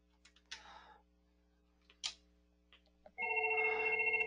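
An IP phone rings on an internal extension call, with a sustained electronic ring tone starting near the end after a few faint clicks and taps in a quiet room.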